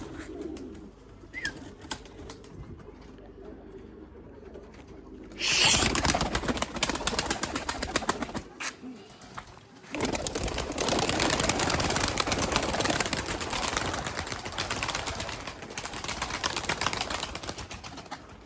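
Limoni breeding pigeons coo in a loft among wing flaps and shuffling, close and moderately loud, with no talking.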